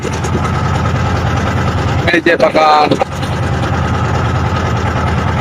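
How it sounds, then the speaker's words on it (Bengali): A steady low motor drone of a trawler boat engine running continuously on Kaptai Lake, Rangamati, with a brief burst of a person speaking over it midway. "আমি ট্রলারের মধ্যে আছি, ট্রলার নিয়ে যাচ্ছি, ভ্রমণ করছি, নদী ভ্রমণ।"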